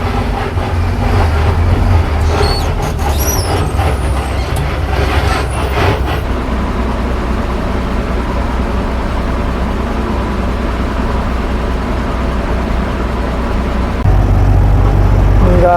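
Trucks gather and idle at a road checkpost near an RTO office in Karnataka: a steady, loud low engine rumble with a dense traffic drone that swells slightly near the end.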